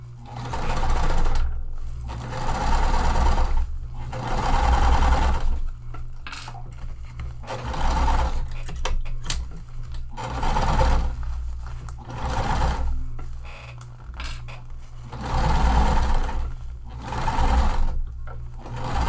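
A sewing machine stitches seams on a waterproof canvas tote in repeated bursts of rapid mechanical chatter lasting a couple of seconds each. Short pauses separate the bursts, with a steady low motor hum underneath.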